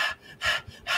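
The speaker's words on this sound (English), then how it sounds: "I want you to take deep breaths like this." Three slow, deep breaths from a diet coach, each a soft broadband rush of air, close and fairly loud, evenly spaced with brief quiet gaps between them.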